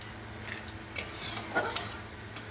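Cumin seeds frying in a pan over low gas, a quiet sizzle with a few light stirring scrapes and clicks of a spatula against the pan.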